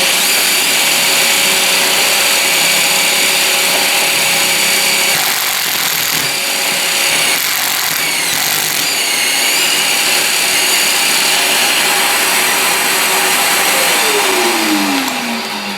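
A Festool-style shop dust extractor runs loud and close with a steady broadband whoosh and whine, dipping briefly, then a falling tone near the end as it winds down.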